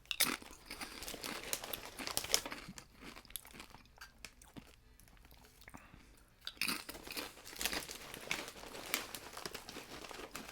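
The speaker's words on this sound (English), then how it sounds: "I'm sure my crunching is disgusting." Close crunching and chewing of a crunchy snack, loud bursts of bites and crinkly munching coming in waves with a quieter lull in the middle, and no talking.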